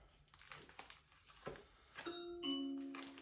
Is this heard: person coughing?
no